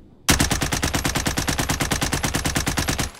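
Automatic weapon fire in Call of Duty Warzone: one loud, unbroken burst of rapid, evenly spaced shots lasting about three seconds, starting abruptly and stopping cleanly, with no voices.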